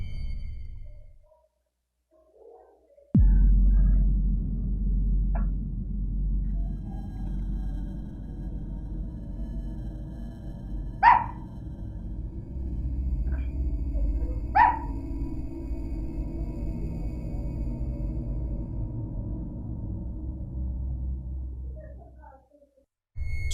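A dog barks twice at night, short sharp yelps spaced a few seconds apart, fairly distant over a steady low hum from inside a house.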